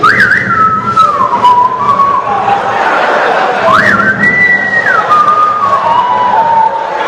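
A person whistles a stepped, swooping melody imitating the Pirates of the Caribbean theme at a comedy show, in two phrases over a lively murmuring crowd.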